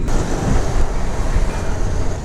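Heavy water crashing and churning on a road stop during a motorbike group ride from Chennai to Kolli Hills, a loud, steady broadband roar with wind buffeting the microphone and no talk.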